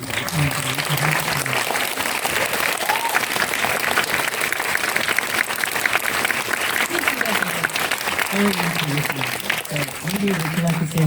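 Theater audience applauding after a film screening at an Asian film festival, a full sustained round of many hands clapping, with a few voices faintly audible beneath the steady applause.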